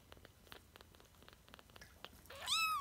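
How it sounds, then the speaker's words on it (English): A week-old abandoned kitten, kept warm in a five-gallon container, purrs softly and close in a faint rhythmic flutter, ending in a brief high mew. "Listen to her purr."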